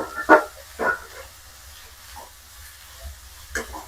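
Onions and garlic fry in a pan for a dill-leaf palya, with a soft sizzle beneath a few sharp clinks and scrapes of stirring, close and fairly quiet, no talking.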